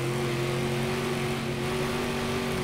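A Ford Raptor trophy truck's engine in the off-road racing game Gravel drones steadily and evenly throughout, a continuous hum of fixed pitch with no voices over it.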